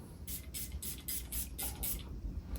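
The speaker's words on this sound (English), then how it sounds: "I'm gonna still spray some more because I like it." Several short hissing bursts from a Davidoff Cool Water Oceanic Edition perfume spray bottle, fired in a quick irregular rhythm, close and fairly quiet.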